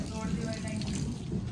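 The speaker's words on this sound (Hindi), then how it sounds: "बहुत ज़्यादा पानी निकलेगा यहाँ से" Water gushes steadily from a broken pipe at a goat farm, a continuous close rushing flow under a low background hum.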